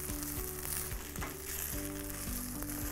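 Rice and carrots sauté in a pan for Uzbek pilaf, giving a steady, close sizzle with light rhythmic scraping or stirring throughout and no voices.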